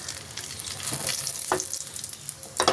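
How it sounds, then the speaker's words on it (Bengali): Radhuni seeds, a dried red chilli and a bay leaf fry in leftover fish oil in a kadai, making a bright, close sizzle with short stirring scrapes near the middle and end. "এখন আমি কড়াইতে দেব রাঁধুনি ফোড়ন দেবো, এই তেলের মধ্যে আর তেল লাগবে না"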